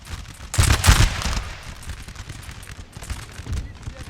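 Musket volleys crackle in a Napoleon Total War battle with the Ottoman army, a burst of massed shots near the start followed by scattered, fainter firing in the distance under the ambient noise of battle.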